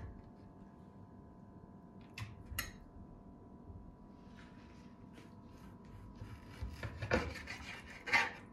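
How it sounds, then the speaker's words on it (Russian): Quiet rasping, scraping cuts with a few sharper bursts near the end, a knife working through raw chicken on a board. "Теперь нарезаем мясо."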